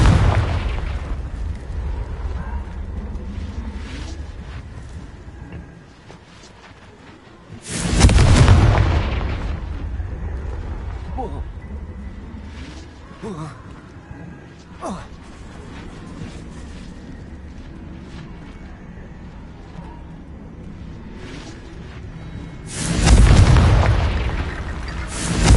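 Confringo fire spells explode in the Hogwarts Legacy video game: two loud, deep booming blasts several seconds apart, each with a heavy rumbling tail, over a low ambient game background.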